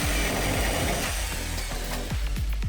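Jigsaw fitted with a metal blade cutting curves in a van's metal side wall for an RV window opening, a loud continuous rasping buzz with repeated strokes and pitch dips as the blade works through the sheet.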